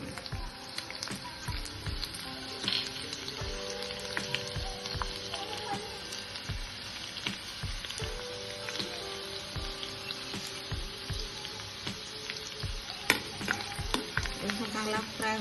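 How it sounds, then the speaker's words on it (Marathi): Cumin seeds and finely chopped garlic frying in hot oil for a Maharashtrian bitter gourd bhaji, giving a dense, continuous crackling sizzle with frequent spattering pops and occasional stirring knocks, close and steady throughout, with no voices. "तेल चांगलं गरम झालंय, त्यामध्ये आपण जिरं टाकून घेऊया. आणि त्या जोडीलाच आपण बारीक चिरलेला लसूण घालून घेऊया."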